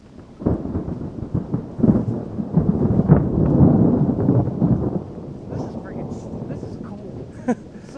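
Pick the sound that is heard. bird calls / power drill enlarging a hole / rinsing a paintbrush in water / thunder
thunder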